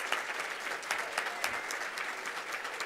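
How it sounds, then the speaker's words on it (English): Audience at a women's lecture series event gives sustained applause, a dense, even patter of many hands clapping close by with no talking. "So please, a round of applause for our sponsors."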